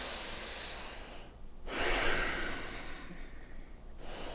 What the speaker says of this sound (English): Really deep diaphragmatic breathing.